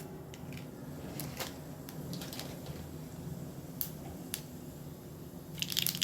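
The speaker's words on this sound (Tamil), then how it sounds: "இப்போ கடுகு சீரகம் நல்லா பொரிஞ்சிடுச்சு" Mustard seeds and cumin splutter in a spoonful of hot oil, a faint close crackle with scattered sharp pops that grow denser toward the end, heard alone without talk.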